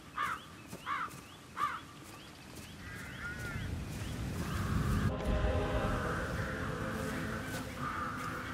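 Crows caw in Hitman 3 on the Dartmoor estate, three sharp calls at the start, then a warbling bird note and a swell of low rumbling ambience that lingers to the end.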